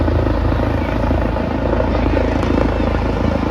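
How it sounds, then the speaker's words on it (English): A police helicopter landing on school grounds during a cops and kids fun run, its rotor and engine roaring loud and close in a steady, continuous chop throughout. "The police helicopter landed on the school grounds."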